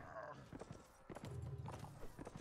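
Horse hooves clip-clop in the Mount and Blade video game, quiet uneven thudding steps in short clusters with a faint whinny-like tone early on.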